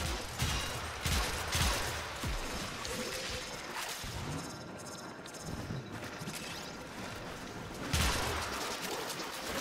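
Gunfire rattles through a survival mission in the video game Warframe, a dense, continuous barrage of overlapping shots and mechanical clatter with louder bursts at the start and near the end.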